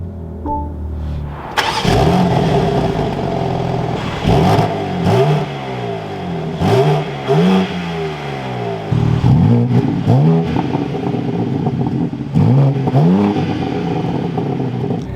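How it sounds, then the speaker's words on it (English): A 2024 BMW M3 Competition engine cranks and fires up, then settles into a burbling idle punctuated by several sharp exhaust revs rising and falling in quick bursts. "let's fire this back up though and get some exhaust clips of the M3"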